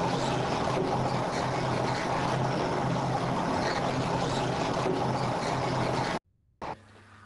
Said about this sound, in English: As the 2 rolls run at different speeds, so the flutes actually scrape the bran from the flour.